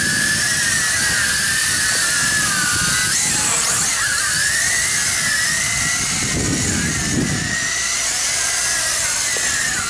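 A WLToys Galaxy V353 quadcopter flying outdoors without its landing gear and performing a flip, its small propellers producing a steady, high-pitched electric buzz that holds close and loud with a brief pitch swell during the maneuver.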